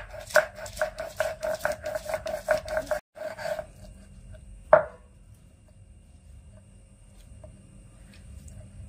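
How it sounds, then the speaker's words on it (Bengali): Green and ripe chillies are ground into paste by hand in traditional village style: about three seconds of rhythmic scraping strokes, then a single sharp knock, then near silence. "এবারে কাঁচা পাকা লঙ্কা বেটে নেব।"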